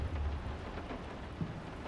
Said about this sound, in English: Man, that rain got loud.